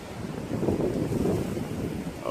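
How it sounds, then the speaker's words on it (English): Strong gusty wind buffets the microphone at Mission Bay, Auckland, a dense low rumbling roar that holds steady and loud across the whole short stretch with no voices. "Sorry, it's so windy today."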